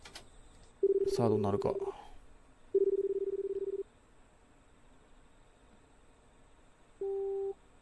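A payphone in a video game gives dialing beeps and then a busy tone that repeats in steady spaced bursts, with a short burst of talk over the first tones.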